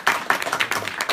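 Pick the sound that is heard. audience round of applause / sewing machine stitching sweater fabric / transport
audience round of applause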